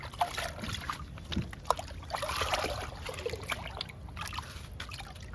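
Liquid fertilizer poured onto the soil of a potted guava plant, a soft continuous trickling and splashing of liquid with small irregular spatters, fairly close and moderately quiet.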